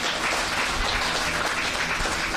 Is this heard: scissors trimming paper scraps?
no